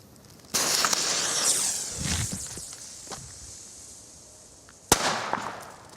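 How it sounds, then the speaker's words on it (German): A Nico B-Böller firecracker from a Bopi pack goes off outdoors with one loud, sharp bang that rings and fades, followed later by a second sharp crack. "Und dann machen wir gleich weiter mit dem Nico B-Böller aus der Bopi-Packung mit dem dunkelblauen Cover."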